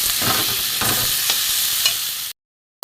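Spice masala of cumin powder, grated ginger and garam masala sautéed in a pan, a steady loud sizzle with a spatula scraping through it, then a sudden cut to silence near the end.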